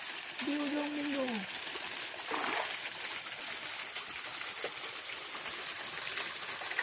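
Two-tier waterfall in Leila forest near Sandakan, a steady broadband rush of falling water filling the scene, with a voice briefly heard early on.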